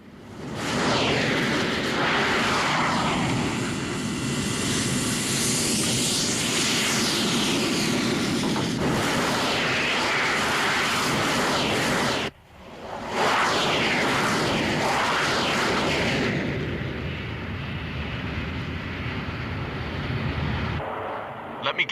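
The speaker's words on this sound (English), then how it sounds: "Looks like Area 88 has dispatched its planes" Fighter planes, MiG-27D jets and foreign legion aircraft in an anime, roar loudly with a continuous engine drone and rushing sweeps, briefly cutting out midway before resuming; voices talk over it.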